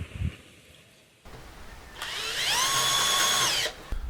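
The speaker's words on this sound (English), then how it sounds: "So I'll put the drill in the first gear, because this really cuts away quickly" A power drill in first gear whirs up to speed and bores steadily into wood for a couple of seconds, loud and close, then stops with a brief clunk.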